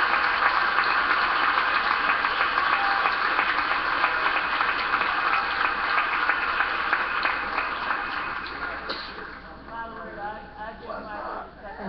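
Audience applause welcoming the House Minority Leader, a broad, sustained wash of clapping that holds steady for most of its length before thinning out near the end, where a voice starts to come through.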